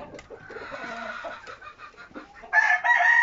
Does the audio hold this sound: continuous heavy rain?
no